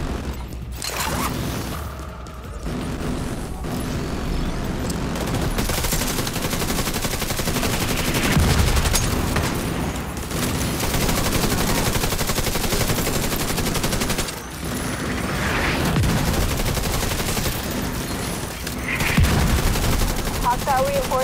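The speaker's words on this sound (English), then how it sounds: "The autocannon seems to be firing blind." Autocannon fire in The Division 2 video game, dense sustained bursts of heavy automatic gunfire with booming impacts, loud and continuous throughout with brief gaps, amid game combat noise.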